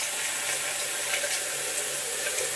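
Tap water runs into a bathroom sink with the drain closed after a drain and trap replacement, a continuous close rushing splash that stays loud and even with no talking.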